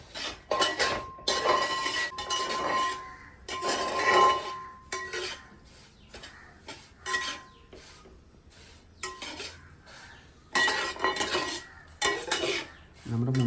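Rava kesari, a mango semolina sweet, being stirred in a pan with a metal spoon: repeated scraping and clinking strokes in bursts with short pauses, close and fairly loud, with no talking.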